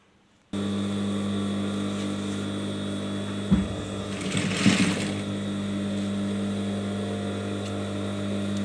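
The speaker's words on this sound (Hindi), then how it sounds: "इसको जमा के और इस तरह से इसकी सिलाई करनी है" A domestic sewing machine stitching a long designer kurti, its motor running as a steady hum from start to finish, with brief bursts of handling noise from the fabric and machine partway through.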